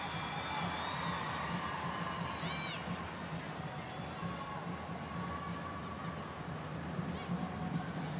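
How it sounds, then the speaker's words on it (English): Stadium crowd noise from a home-side football match, the CommBank Matildas against Canada in Brisbane, a steady broad roar of many voices swelling slightly, continuous throughout with no single voice standing out. "crowd finding their voice again"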